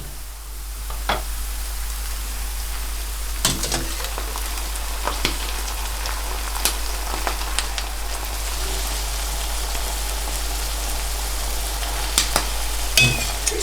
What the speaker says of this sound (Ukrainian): Цибулю я підтушила ось до такого золотистого кольору. І тепер додаю гриби.